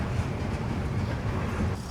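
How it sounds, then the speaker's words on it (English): A long freight train loaded with shipping containers rolls past in a fire-scarred town, giving a steady, dense rumble and rattle of rail cars that holds without a break. "It's a long train."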